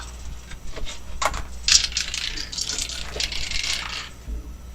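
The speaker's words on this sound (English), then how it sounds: "everyone roll a dice." Dice clatter and tumble across a table during a live tabletop role-playing game of Tunnels & Trolls and D&D, a run of bright rattling clicks from several rolls, close and moderately loud.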